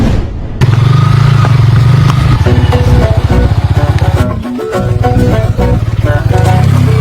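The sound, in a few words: motorcycle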